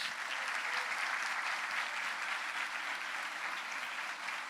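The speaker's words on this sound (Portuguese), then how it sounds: "vamos dar a todas elas uma salva de palmas" A church congregation applauds the mothers at a Mother's Day service, a steady, dense wash of clapping held at an even level throughout, moderately distant with no voices over it.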